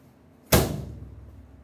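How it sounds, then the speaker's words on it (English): A single sharp thud as a clothes dryer door is pushed shut, quick impact followed by a short fading rattle, close and alone. "Once we finish putting our towels in the dryer, we close the door."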